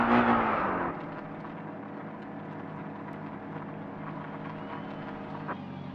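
A 2200hp Toyota AE86 drag car in Car Parking Multiplayer 2 revs and then settles into a steady, droning engine whir under acceleration, fairly quiet and constant throughout.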